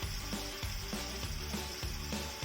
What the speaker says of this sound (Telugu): మరి కొంచెం సేపు వేయించుకుందాం.